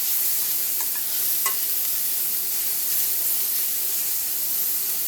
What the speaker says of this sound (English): Look at my onions, they're getting caramelized.